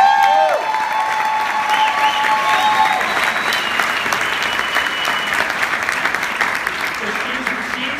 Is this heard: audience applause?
yes